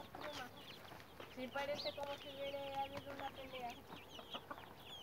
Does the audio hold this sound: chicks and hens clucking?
yes